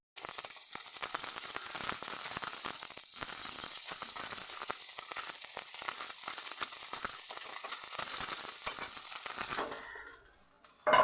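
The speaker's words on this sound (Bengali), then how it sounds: "দেখে মাছগুলো ভাজা হচ্ছে" Several fish fry in a crowded pan of oil with a dense, even sizzle and scattered crackles, close and steady for about ten seconds before it fades and a brief clatter ends it.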